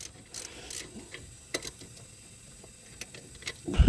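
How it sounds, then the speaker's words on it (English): A small crescent wrench tightening bolts during brake shoe replacement on a 2013 GMC: light metallic clicks and ticks scattered irregularly, close and fairly quiet. "I'm just going to snug them up with this little crescent wrench."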